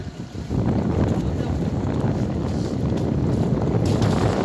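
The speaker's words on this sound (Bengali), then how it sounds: "দেখেন এই ট্রলারটা কত স্পিডে আসছে" A fishing trawler's engine drones steadily at sea with rushing water and wind, growing louder after the first half second as it approaches at speed and holding strong to the end.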